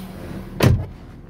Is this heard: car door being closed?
yes